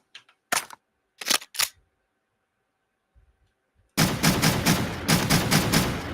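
Weapon reload in a video game: a few sharp metallic clicks and clacks, a short pause, then a sustained burst of loud rapid gunfire.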